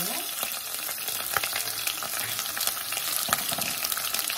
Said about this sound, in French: Mon casserole est déjà chaude, je mets l'huile d'olive.